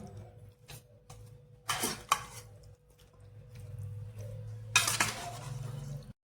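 A spoon scrapes and clinks against a bowl while chicken is worked into spices by hand-held spoon, with irregular bursts of clattering and mixing separated by quieter moments.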